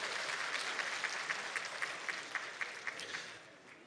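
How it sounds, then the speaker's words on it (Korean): An audience at a resident self-governance convention event claps together, a dense wash of applause with some rhythmic unison claps that fades toward the end. "박수로 한번 힘을 모을까요?"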